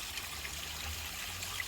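Small flow of water trickling steadily into a koi pond, a soft continuous burble at close range with no voices.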